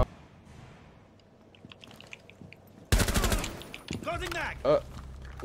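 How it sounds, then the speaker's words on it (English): Gunfire in Rainbow Six Siege comes through an open window, a sudden loud burst of rapid shots after a quieter stretch, continuing in dense volleys with impacts and debris. "They're shooting through it."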